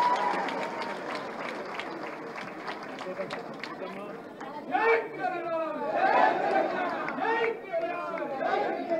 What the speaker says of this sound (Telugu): గట్టిగా చప్పట్లు కొట్టారు